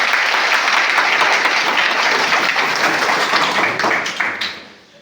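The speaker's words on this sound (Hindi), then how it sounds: "एक बार जोरदार ताली बजाइए" Loud, sustained applause from an audience at a World Environment Day community event in Gumla, steady dense clapping that fades out in the last second.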